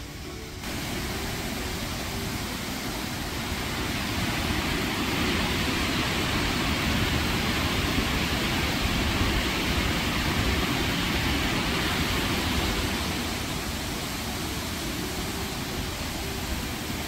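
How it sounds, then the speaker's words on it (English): Steady, dense rush of water flowing through reeds and down a small man-made waterfall in County Mayo, Ireland, a constant broadband roar that holds evenly with no other sounds. "Enjoy the sound of water rushing through the reeds and going down a little man-made waterfall"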